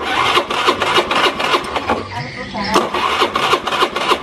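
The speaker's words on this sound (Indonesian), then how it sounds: "Saya tekan starter ya. Nah, motor tetap hidup ya." A Honda Beat motorcycle's electric starter is pressed, giving a cranking whir with a brief pause, heard close up beneath someone talking throughout.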